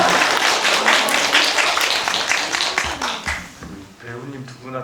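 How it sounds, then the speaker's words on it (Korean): An audience at a film talk in a library claps in a brisk burst that soon thins out and fades, and a voice begins speaking as the applause dies away. "박수를 제대로 한번"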